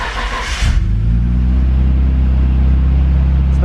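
A Nissan Skyline GTR R32 engine cranks briefly and catches after a fuel filter replacement, then settles into a loud, steady, rumbling idle close by.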